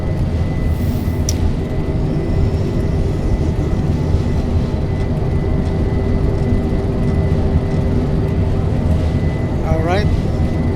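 A Boeing 747-8 in a flight simulator game approaches Manila with a loud, steady engine drone that never lets up, plus a faint rising tone near the end.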